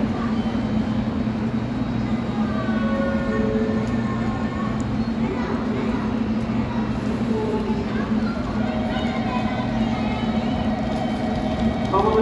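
A Series 783 out-of-service train moves at Hakata Station on the Kagoshima Main Line, a continuous low rumble of rolling stock with faint tonal whines and squeals rising and shifting, platform ambience throughout.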